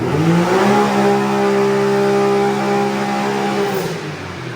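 A turbocharged Can-Am X3 side-by-side engine revs hard during a power pull, a loud sustained whining roar that climbs steadily and then eases off near the end, with no talk over it.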